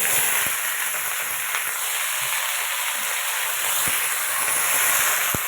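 Vegetables for labra curry fry in oil with a steady, close hiss and sizzle, broken by a few faint clicks from a utensil.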